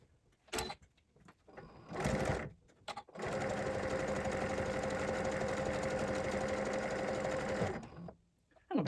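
Sewing machine running steadily for about five seconds while stitching a fabric book cover, with short bursts and pauses of handling before and after the continuous whirring stretch.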